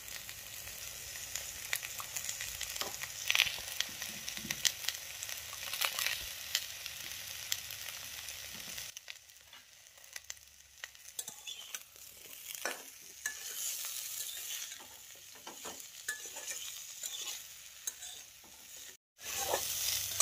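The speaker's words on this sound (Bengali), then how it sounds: "নাড়াচাড়া করে 5 মিনিট সজনে ডাঁটাটা ভেজে নেব।" Drumsticks (moringa pods) frying in a pan with turmeric and salt for a pickle, a steady close sizzle with scraping stirring strokes throughout and a brief pause near the end.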